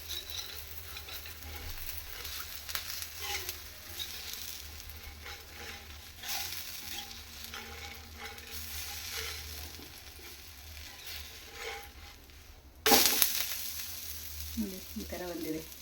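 Methi thalipeeth, a flatbread of fenugreek greens, fries in oil on a pan after being flipped. A steady, soft sizzle runs throughout, and near the end a louder clatter marks a sharp burst.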